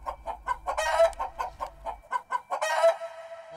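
A chicken clucks repeatedly in short rhythmic bursts, with a couple of louder squawking calls mixed in, close and clear with no talking.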